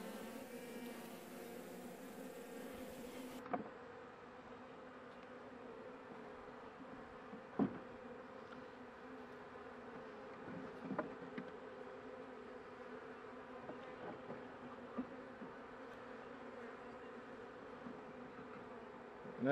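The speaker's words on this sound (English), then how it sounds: "As you can see, very few bees." Honey bees buzz faintly and steadily around a hive, a low, continuous drone with a few soft knocks and bumps scattered through it.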